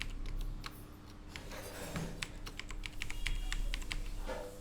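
Typing a password on a computer keyboard: quick, irregular bursts of light key clicks, close and fairly quiet, with no talking.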